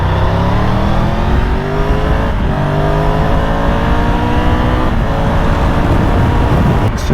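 A Triumph 1200 GT Pro motorcycle accelerating through the gears, its engine note climbing steadily in pitch, dipping briefly at shifts and climbing again, loud and close with constant wind rush.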